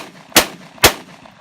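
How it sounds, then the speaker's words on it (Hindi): A TT-30 bore Russian pistol fires two sharp, loud gunshots about half a second apart, close by, with a quiet background between them. "कुछ फायर करते हैं इस पर"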